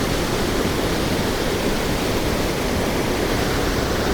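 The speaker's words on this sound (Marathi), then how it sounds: "हा वॉटरफॉल आहे ना हा बाराही महिने वाहतो" A steady, loud roar of a waterfall with an 80-foot drop, broadband rushing water with no breaks, filling the whole clip without any voices.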